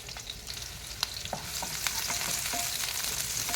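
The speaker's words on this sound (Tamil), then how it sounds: "வெங்காயத்தை நல்லா ஃப்ரை பண்ணிக்கலாம்." Onion frying in a little oil in a kadai, a continuous close sizzle and crackle with occasional stirring clatter, no voices.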